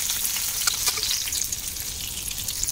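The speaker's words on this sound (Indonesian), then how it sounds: "Giliranku menggoreng tahu yang sudah tak potong-potong. Mari kita goreng." Cut tofu fries in a pan, giving a continuous bright sizzle with scattered crackles and pops, close and steady throughout.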